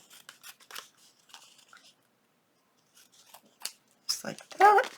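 Scissors snip through a paper junk journal tag in short, crisp bursts with pauses between cuts, growing closer and louder toward the end.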